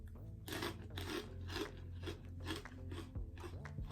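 Loud, close crunching as a brittle jalapeno snack is bitten and chewed, repeating in quick bursts about every half second over a low steady hum.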